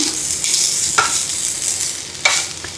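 Curry leaves fry in coconut oil in a pan with a constant hissing sizzle, while a spoon scrapes and clinks against the pan twice.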